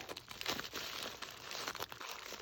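Bubble wrap packaging crinkles and rustles close up while being handled during an unboxing, a dense continuous crackle with no talking.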